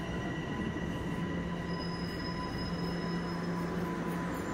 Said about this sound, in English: Okay, here's our train.